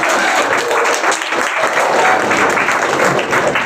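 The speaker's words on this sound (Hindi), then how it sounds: "खड़े होकर इनका जोरदार तालियों के साथ स्वागत करें।" Audience standing to give a loud welcoming applause to BSF member Emmanuel Barjo at Knowledge Hub, Khunti, Jharkhand; dense, steady clapping from many hands fills the room throughout.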